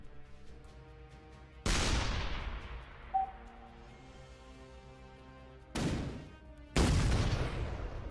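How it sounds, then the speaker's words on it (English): Artillery shots in the Shell Shock Live video game: three sharp booming blasts, each decaying away, spaced several seconds apart with quiet gaps between. "That was a really good shot"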